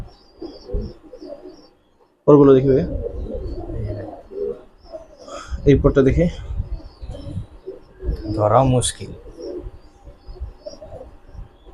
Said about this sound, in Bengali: একসাথে অনেকগুলো কবুতর